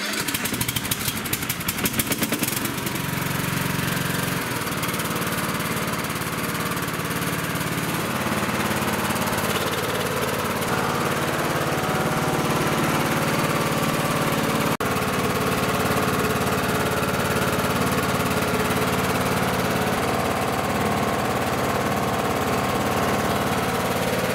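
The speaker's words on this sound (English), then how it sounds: "And now I'm just going to give this tractor a quick start here to make sure everything runs." A Kohler single-cylinder OHV lawn tractor engine, just repaired for a leaking valve cover, starts and runs steadily at close range. A loud, continuous mower-like drone holds for over twenty seconds with no talking.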